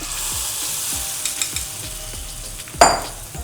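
A Maggi noodle and egg omelette mixture frying in hot oil over a low flame, a continuous close sizzle with soft spatula scrapes and one sharp metallic clink.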